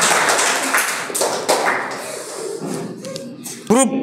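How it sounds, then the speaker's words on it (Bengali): An audience at a quiz competition bursts into a short round of clapping that tapers off within a few seconds, and a voice follows right after. "জোরে হাততালি হবে।"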